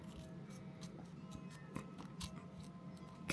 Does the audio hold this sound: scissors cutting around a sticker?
yes